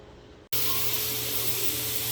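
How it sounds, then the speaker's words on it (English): Steam roars steadily out of the vent of an All-American pressure canner on a stove, a loud continuous hiss that starts abruptly after a brief quiet moment and holds without break. "That is the steam for the venting."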